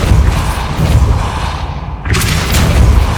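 The Depulso spell is cast in Hogwarts Legacy, giving a loud, dense magical blast with a booming, rumbling body and a sharp, bright burst partway through, sitting amid continuous game noise.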